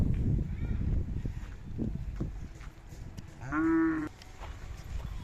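A Khillar bull of the Salgar line gives one clear, fairly close moo midway, heard over faint outdoor farm noise and shuffling.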